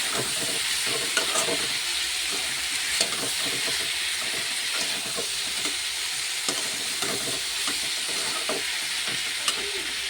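Spice paste sizzles and fries steadily in a pan while a spoon scrapes and stirs it, with irregular clicks and taps throughout.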